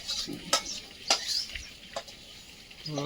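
Ground cumin paste tempered in hot oil, sizzling as it is tipped into red lentil (masoor) dal in a pan, with a few sharp clacks and scrapes of a spoon stirring against the metal.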